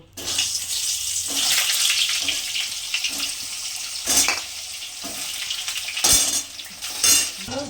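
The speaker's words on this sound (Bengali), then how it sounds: "পটলগুলো ভেজে নেব" Pieces of pointed gourd fry in oil in a pan, a loud continuous sizzle close by, broken by a few clattering stirs and scrapes of a utensil against the pan.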